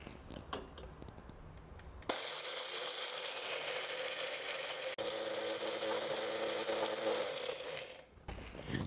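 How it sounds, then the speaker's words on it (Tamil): Pepper and spices for rasam powder are ground in a grinder, a loud steady mechanical whirring that starts abruptly after a few soft clicks, runs for about six seconds, then cuts off. "இப்போ இந்த மிளகு ரசத்துக்கு உண்டான பொடியை நம்ம அரைச்சி எடுத்தாச்சுங்க."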